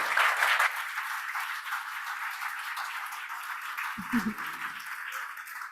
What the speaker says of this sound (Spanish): Le brindamos un fuerte aplauso por su exposición.